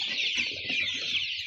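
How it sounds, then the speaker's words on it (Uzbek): A flock of two-month-old Andijan black chickens clucks and peeps continuously, their many overlapping, high, chirpy calls forming a dense, close chorus with no talk. "Zo'r jo'jalar."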